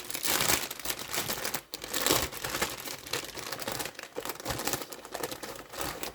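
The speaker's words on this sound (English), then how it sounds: "I'm sorry for the rustling" Paper packaging rustles and crinkles continuously in close, irregular bursts as it is handled while making meatloaf.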